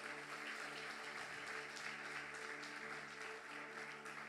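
Congregation applause at a church service, dense continuous clapping from many hands held at an even level throughout, with a steady hum underneath.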